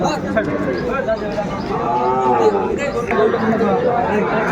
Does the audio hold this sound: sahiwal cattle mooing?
yes